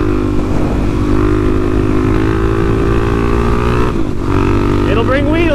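A motorcycle engine drones loud and close during a wheelie attempt, a steady harmonic roar that rises in pitch near the end as it revs, with no talk over it.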